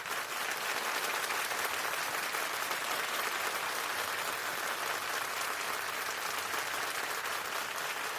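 A studio audience at a Marathi television quiz show gives dense, continuous applause that holds at an even, loud level for over eight seconds without a break.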